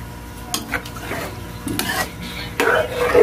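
A spoon stirring dinuguan, a Filipino pork blood stew, in a pot: scraping and clinking of a utensil against metal in irregular strokes, close and moderately loud with a light sizzle underneath.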